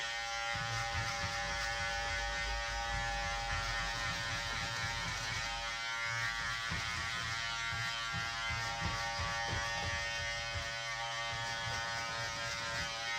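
An electric hair clipper fitted with a number 1 (about 3 mm) guard cuts a man's hair, giving a steady, close, continuous buzz that holds unbroken for the whole stretch with no talking.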